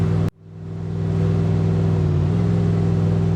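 A simulated car engine in Unreal Engine 5 MetaSound with a Doppler effect starts with a sharp click, then settles into a loud, steady humming drone that shifts slightly in pitch as the throttle changes.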